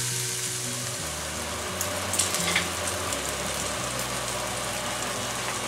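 Chicken pieces for a burrito crisp in a hot pan, giving a steady, close sizzle with a faint low engine-like hum underneath and a couple of louder crackles midway.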